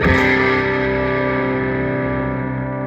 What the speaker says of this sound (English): You can just hear a little bit of that modulation warble.